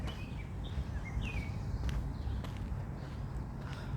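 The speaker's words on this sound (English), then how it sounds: "A lot of birds singing." Faint birdsong, including robins, carries along a nature trail by the Rideau River in Canada, with a few thin chirps early on over steady outdoor rumble and what may be footsteps.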